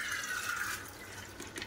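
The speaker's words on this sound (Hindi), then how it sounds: "इसको ऐसे डाल देती हूँ पानी समेत।" Soaked chana dal and its soaking water pour into a pressure cooker in a brief, close, steady watery splash and trickle.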